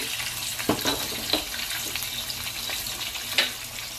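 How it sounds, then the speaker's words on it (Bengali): Spice paste of turmeric, red chilli powder and cumin paste sizzles steadily in a pan for egg korma, heard close with occasional louder scraping stirs. "এই মশলাটা আমি কষিয়ে নেব ভালো করে।"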